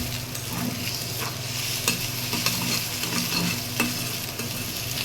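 Broken eggs frying in a pan, salted and stirred into chunks, a continuous close sizzle with repeated scraping and spatula taps in an uneven rhythm, no speech.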